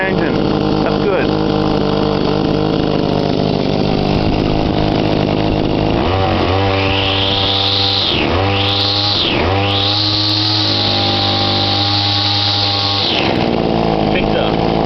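A Victa Tornado Plus 26cc two-stroke petrol whipper snipper fires up around midway and runs at a loud, buzzing idle with a few sharp revs, after a stretch of quieter handling noise and some talk.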